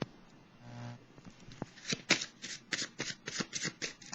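Tarot cards are shuffled up close in a quiet room, with a short hum early on followed by a series of crisp, rhythmic riffling bursts.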